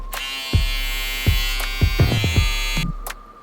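A Babyliss Blacked Out double foil electric shaver runs with its cap on, a steady motorized buzz and hum with a few sharp clicks and knocks throughout before cutting off near the end.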